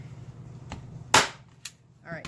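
A staple gun fires loudly into fabric pulled tight over a chalk transfer, one sharp snapping shot standing out from quieter handling clicks and rustles.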